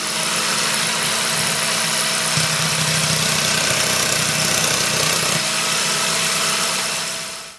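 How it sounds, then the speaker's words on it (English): A jigsaw on a jigsaw table cuts through wood for a rustic sign, producing a loud, continuous buzzing motor drone with steady vibration that holds for about seven seconds before cutting off. "So I'm going to cut that on my jigsaw table."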